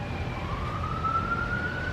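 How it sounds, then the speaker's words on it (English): A siren wails outside, its rising tone sweeping steadily upward and holding at moderate loudness over a low background rumble, with no talking. "Oops, sirens."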